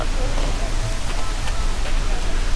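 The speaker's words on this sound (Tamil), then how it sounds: "பயங்கரமான மழை பெய்யுது கையா." Steady, dense heavy rain hissing loudly and evenly throughout in Valparai's hills, with a constant low rumble underneath and no clear voices.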